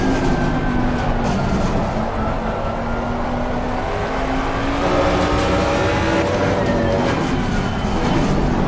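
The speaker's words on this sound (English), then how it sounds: "You just hear the brakes cooking every time I end in that corner." A GT3 Ford Mustang in the Assetto Corsa Competizione racing game, heard at a corner with overheating brakes: a loud, continuous engine drone with shifting tonal whine and road rumble, alone with no talk.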